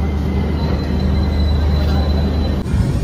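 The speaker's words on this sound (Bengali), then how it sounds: "আজিমগঞ্জ ছেড়ে আমাদের ট্রেন বেরোচ্ছে" Passenger train pulling away from Azimganj, a loud close rumble of wheels on track with a thin steady squeal over it and a brief jolt near the end.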